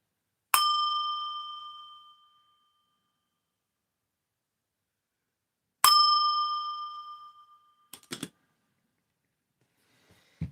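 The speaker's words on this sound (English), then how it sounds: "Just ring the bell a little bit more." A small bell rings twice, each clear ding ringing out and fading slowly over a couple of seconds, followed by a few soft clinks of metal, close and alone in a quiet room.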